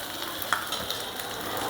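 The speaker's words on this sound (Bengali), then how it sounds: "মাছটা এই সাইডটা ভাজা হয়ে গেছে সন্ধ্যা।" Sabila sea fish, coated with turmeric powder, frying in a pan with oil: a steady, close, crackling sizzle with a few brighter pops, with no voices.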